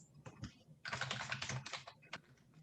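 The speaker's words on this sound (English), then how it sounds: "He's banging away on the keyboard." Fast, uneven keyboard clacking, loud and close, in dense bursts with short pauses between them and no voices.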